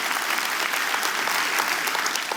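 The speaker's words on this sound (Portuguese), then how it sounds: "Vamos aplaudir o Senhor com alegria." A church congregation applauds together during a televised worship service, producing a thick, continuous roar of clapping that stays loud and even from start to finish, with no speaking heard.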